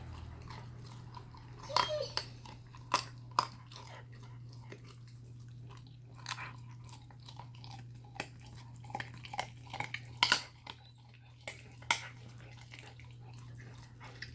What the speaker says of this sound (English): You can hear she has no problem at 10 weeks chewing through those bones adequately